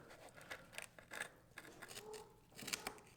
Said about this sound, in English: So I just want to cut right up to that point with a nice straight cut right into the corner here.